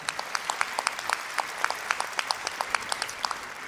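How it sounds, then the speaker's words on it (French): Applause from the audience at a Yom Rashi event honoring a community president: fairly quiet, thin clapping from a small group, with separate sharp claps scattered steadily across a few seconds. "que l'on peut applaudir très fort"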